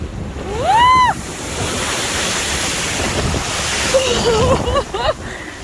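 High ocean waves surging and crashing against the shore in a steady broadband roar, with wind buffeting the microphone and a child's excited squeals rising briefly over the surf.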